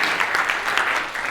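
Audience applause for a second-place award winner at a contest ceremony, a steady dense patter of many hands clapping for a brief moment with no talking.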